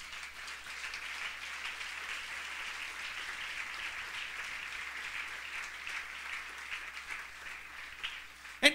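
A church congregation applauds during a sermon, with steady, dense clapping held at an even level throughout and a brief louder burst at the very end.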